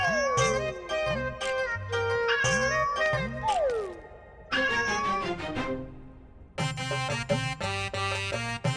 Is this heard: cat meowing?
yes